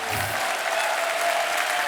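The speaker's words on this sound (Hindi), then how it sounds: "एक बार जोरदार तालियां हमारे मेहमानों के लिए।" Audience applause for guests on a Hindi celebrity talk show, a steady dense wash of clapping that stays loud and even across the whole stretch, with no voices over it.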